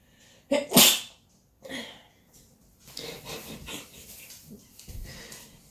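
One sharp, loud sneeze bursts out near the start, followed by quieter rustling, sniffing and breathing sounds close by.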